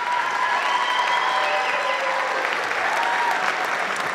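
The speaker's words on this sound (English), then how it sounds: "Let's give them one more round of applause." Audience applause for children at an elementary school winter chorus concert, a dense sustained clapping from a full room, loud and steady throughout with faint crowd noise underneath.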